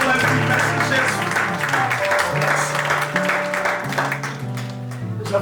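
A congregation claps at a funeral service, steady applause running through the whole stretch beneath sustained music and voices.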